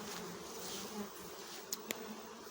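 Honey bees buzzing around a four-storey beehive in hot summer sun, a dense continuous hum with a couple of brief sharp clicks near the end.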